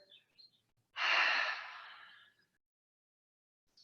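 An open-mouthed exhale during a yoga session: one long, breathy, close rush of air that fades out, followed by silence.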